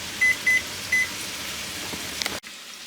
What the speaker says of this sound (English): Okay, the timer just went off.